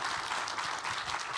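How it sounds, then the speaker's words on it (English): Sustained round of audience applause at a health summit, many hands clapping densely and evenly at moderate volume throughout. "just give them a round of applause for being here"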